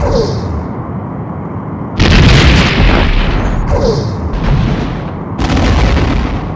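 Loud booming weapons fire and explosions from the Star Trek: The Next Generation – A Final Unity video game, with several heavy bursts surging in over a dense, rumbling background blast.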